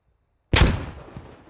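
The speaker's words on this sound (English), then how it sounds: "ooh, that's a grenade" Grenade explosion in the military shooter Squad, a single sharp blast after silence. It has a sudden loud onset and a boomy low-end decay that fades over about a second, with no talking.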